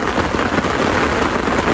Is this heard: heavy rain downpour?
yes